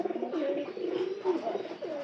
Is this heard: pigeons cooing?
yes